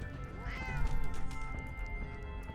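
A cat meows in the video game Fallout 4, one drawn-out, rising and falling meow near and clear over a faint game background hum.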